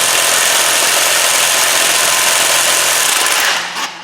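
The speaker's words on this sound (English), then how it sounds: "This impact, half-inch impact, I think it goes up to about 120 pounds, foot-pounds." A half-inch impact wrench hammers loudly and continuously on a Ford F150 lug nut for several seconds, a dense rattling buzz that cuts off near the end.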